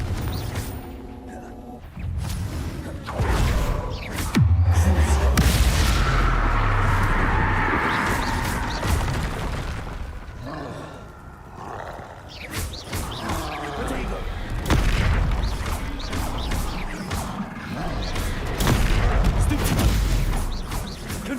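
Blasting spells in Hogwarts Legacy go off as a string of booming game explosions and crackling bursts, loud and dense throughout, with a voice talking over much of it.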